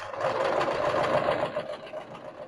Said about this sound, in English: And we're nearly at the end of sewing this collar together.